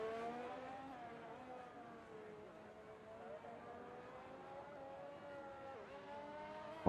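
A race car in a sim racing game at the Miami GP circuit, engine pitch dropping as it brakes then climbing again on acceleration, steady and fairly close, with gear-shift dips in the whine.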